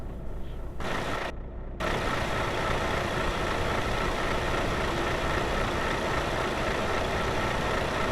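Truck engine idles with a steady low rumble, a brief dip near the start before settling into a continuous, even drone.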